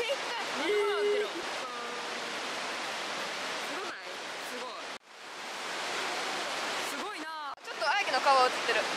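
Spray from a waterfall inside a cave in Yamaguchi Prefecture makes a steady, hissing rush of water that fills the whole space, with voices talking and brief squeaky sounds over it.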